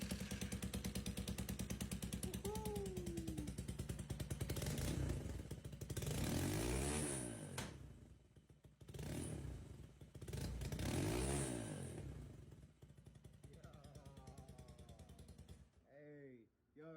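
Lifted four-link golf cart with a 250cc Honda engine, revving up repeatedly in loud rising and falling surges with clattery idle between them, while people talk over it.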